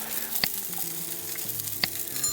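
Bacon frying in cannabis oil in a pan, a continuous close sizzle with two sharp pops standing out above the steady crackle, no voices.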